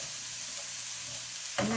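Ground turkey browning in a hot pan while being broken up and stirred, giving a steady loud sizzle with a scrape of the utensil near the end.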